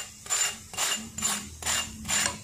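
A crispy Delhi-style moong dal moonglet on a hot pan gives off five close, evenly spaced rasping scrapes in a steady rhythm, each a short burst of crunchy scratching with quiet gaps between, and no voices.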